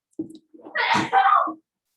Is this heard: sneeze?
yes